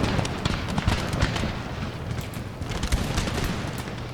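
Marines firing muskets in an Empire: Total War battle: a dense, continuous crackle of scattered musket shots and thuds, mid-distance, forming a steady rolling volley throughout.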